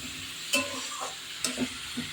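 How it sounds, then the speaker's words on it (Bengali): Sizzling pan of sim, spring onion and pea pods being fried for a posto chorchori, with quiet steady frying hiss broken by a few sharp spatula scrapes and clinks as the mix is stirred. "এটাকে পুরো লাল করে ভেজে নেবো আমি"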